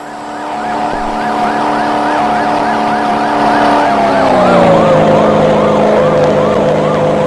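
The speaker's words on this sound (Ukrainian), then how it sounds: "поліцейська машина" A police siren in the video game Teke Teke: Moonlit Dread wails in a fast, repeating up-and-down pattern, loud and close, then drops in pitch and continues steadily.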